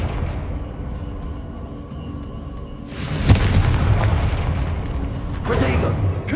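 Confringo blasting spell in Hogwarts Legacy detonates with a sharp, loud boom over a low rumbling background, then a second burst hits near the end.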